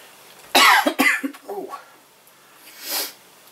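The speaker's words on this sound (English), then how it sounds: "I'm suddenly coughing for some reason." A couple of sharp, harsh coughs in quick succession, close by, followed by a softer breathy exhale after a pause.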